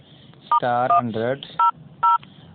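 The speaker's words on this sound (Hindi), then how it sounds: "तो आपने एक कोड डायल करना है।" Telephone keypad dialing a code: several short two-tone beeps sound close and clean in a quick uneven series, mixed with a voice talking over the first part.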